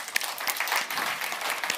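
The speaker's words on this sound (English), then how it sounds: "Give them a massive round of applause" A conference audience claps for a panel after a session on AI and sustainability, a brief burst of dense clapping with a few sharper individual claps standing out.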